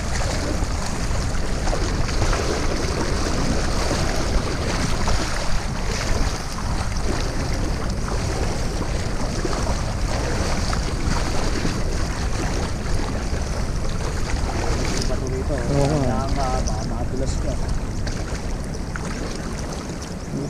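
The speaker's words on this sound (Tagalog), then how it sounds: "Lakas ng alon eh." Loud, constant rushing water and wind from strong waves on the Enchanted River in General Nakar fill the whole stretch, a heavy churning roar with no voices.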